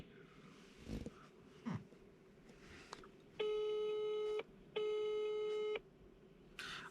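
A telephone ringback tone sounds twice from a phone call, two evenly spaced, sustained electronic tones of about a second each, clear and close over faint background noise and a few scattered knocks.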